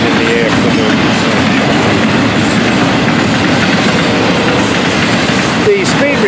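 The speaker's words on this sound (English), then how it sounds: "Double stack, stacks. Great looking train in the afternoon." A Florida East Coast double-stack freight train rolls past close by at reduced speed, giving a loud, steady rumble with continuous wheel clatter throughout.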